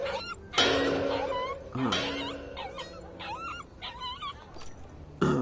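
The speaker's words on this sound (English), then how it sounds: "A dog. There is a dog." A dog in a video game whimpers and yips in high, wavering whines, repeated in short bursts over a low ambient background, with occasional louder effects between them.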